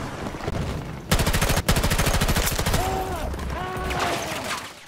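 Rapid automatic gunfire in the shooter game Battlefield 2042, loud sustained bursts of fast repeated shots close by, with a brief gap, then further firing mixed with whistling tones and game effects.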